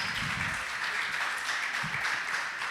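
Members of a church congregation clap together in sustained, even applause, many hands forming a steady crackling wash with a few faint low murmurs underneath.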